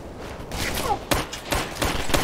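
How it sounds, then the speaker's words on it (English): Gunfire in the military shooter Operation Flashpoint: Red River: a few sharp, separated shots crack out over a steady battlefield rumble, with a brief voice-like sound in between. "This is Alpha Team, we're getting shot at."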